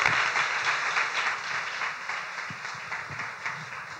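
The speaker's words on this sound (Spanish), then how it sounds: "les pido un aplauso para ellos" An audience claps to welcome guests at a science talk on Stephen Hawking, a steady, moderately loud round of applause that gradually thins out over its length.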